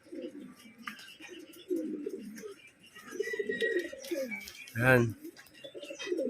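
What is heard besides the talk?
homing pigeon cooing on return from training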